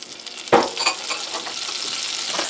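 Butter hitting a hot frying pan, a sudden hiss that swells into a steady crackling sizzle, close and fairly loud, continuing without talk.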